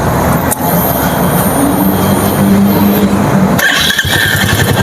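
A 2021 Royal Enfield Meteor 350 single-cylinder motorcycle engine gives a loud, steady rumble up close, droning continuously with a slight shift in tone near the end and no voices.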